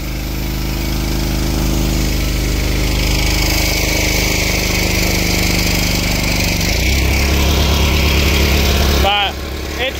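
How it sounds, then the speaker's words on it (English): Worn-out, tired gasoline engine of a power washer running on a dairy farm, a loud steady mid-pitched drone that shifts tone near the end before a brief clatter. "I just can't seem to keep this power washer working."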